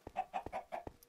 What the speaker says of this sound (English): I hear a chicken.